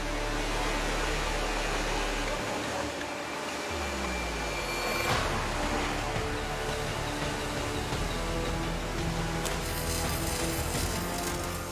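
Machinery hums and whirs steadily inside an automated robotic welding plant building excavator undercarriages, with a dense, continuous mechanical drone and a brief sharp hiss partway through.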